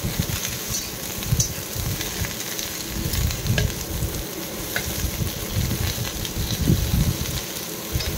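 Cauliflower frying in a pan toward golden brown, a steady close sizzle and crackle running continuously with occasional louder pops and stirring scrapes, no talking.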